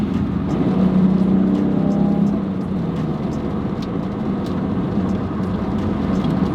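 A BMW F80 M3 with an AWE S-FLO aftermarket intake accelerates with a steady, throaty engine drone and road rumble, the pitch rising briefly before settling into a constant hum.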